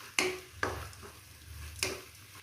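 Amla rice mixture being sautéed and stirred in a pan, with three sharp scraping strokes of a spoon over a steady low sizzle of frying.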